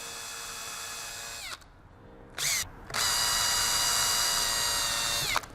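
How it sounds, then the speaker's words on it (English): A power drill whines steadily at low speed, stops briefly with a short burst in between, then runs again at a steady pitch, close and fairly loud. "And you can hear I'm not pulling the trigger very far. It's very slow drill."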